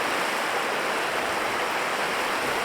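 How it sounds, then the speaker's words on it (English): A river rushes steadily through a breached mill dam, a dense, even roar of flowing water with no pauses and no voices. "the dam was breached to allow the river to maintain its natural course."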